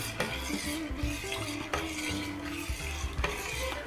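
A few drops of calcium chloride stirred quickly into milk for yogurt: a utensil scraping and clinking against the pot in a steady rhythm, close and fairly quiet, with no talking.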